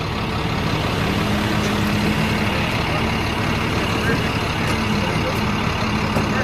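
A small Japanese K truck creeps slowly out of a shipping container, its engine a steady, close, low rumble that holds an even level from start to finish.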